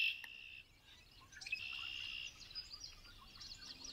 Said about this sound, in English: A bit farther away, you hear red-winged blackbirds trilling their recognizable